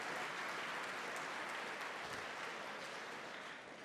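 Sustained audience applause fills an awards gala hall for the Canadian Cannabis Awards, a dense, steady wash of clapping from a large crowd that holds at full strength and eases slightly toward the end.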